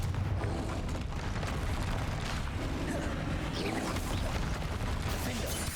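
Confringo blast spell in Hogwarts Legacy, a loud continuous barrage of booming, rumbling fiery explosions layered with crackling bursts, dense and sustained throughout with no letup.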